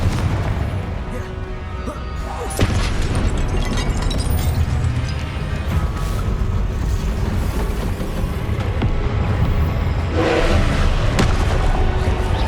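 Confringo spell blasts in Hogwarts Legacy gameplay, repeated booming explosions and bursts over a dense, loud layer of combat effects and low rumble, with a couple of sharp impacts standing out.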